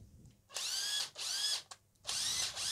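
A cordless battery-powered drill runs in three close, loud bursts of high, whining motor speed, each lasting about half a second to a second with short pauses between, and no voices.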